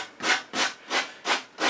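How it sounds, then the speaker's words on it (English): Sanding block rubbed back and forth over the rough edges and corners of a wooden wargaming board, five even, close strokes in a steady rhythm, each a loud scratchy swish with short gaps between. "I will then finish it off with a sanding block."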